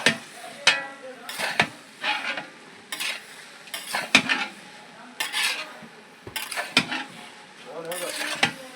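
Fried peanuts being stirred into vegetable masala poha in a pan, with repeated scraping and clattering spoon strokes against metal in an uneven rhythm, close and fairly loud, over a light sizzle.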